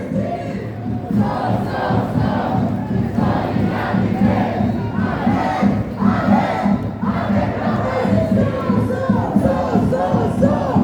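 A large pro-Palestinian street protest crowd in Montreal screams and chants loudly in rhythmic surges, a dense mass of voices that rises and falls in repeated bursts, close and continuous throughout.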